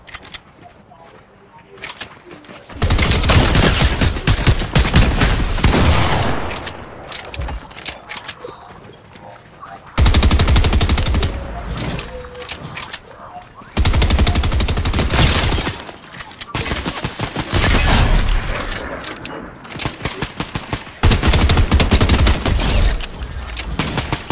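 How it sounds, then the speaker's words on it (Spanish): Rapid bursts of gunfire in the Fortnite video game, loud dense volleys fired at other players, broken by short quieter gaps with mechanical clicks, while a player talks over the shooting. "le estoy disparando el bote a otra persona"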